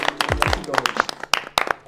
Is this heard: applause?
yes